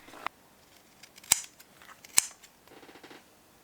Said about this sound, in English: you can just cut off the excess here